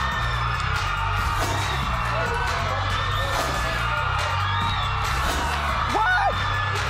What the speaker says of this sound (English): Why are you all screaming at me?